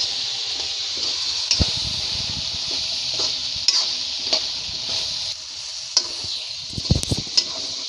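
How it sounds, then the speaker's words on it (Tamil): A dry fish gravy masala fries in a pan with a soft, steady sizzle while a spoon stirs it, giving scattered sharp scrapes and taps against the metal, close by and with no talk. "சேர்த்து நல்லா கிளறி விடுங்க."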